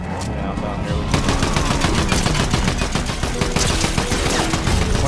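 Rapid gunfire in Fortnite, loud and dense bursts of shots crackling close in the game mix, continuous across the clip with faint voices underneath.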